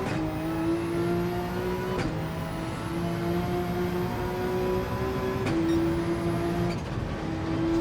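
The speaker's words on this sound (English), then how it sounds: "Those straight cut gears sound amazing." A race car with straight cut gears accelerates hard on the Nürburgring, its loud gear whine and engine rising steadily through each gear, with three distinct upshifts, heard from close inside the car.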